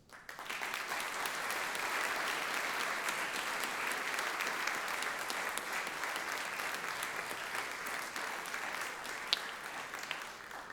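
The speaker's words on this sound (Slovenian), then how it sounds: "En aplavz." Sustained applause from an audience at a regional folk gathering in Vrhnika, a dense even clapping that starts abruptly and carries on for about ten seconds without letting up.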